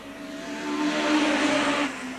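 Hot rod race cars at Arlington brake hard into a turn at the end of the home straight, a swelling engine roar with tire squeal rising and fading as they pass, no voices.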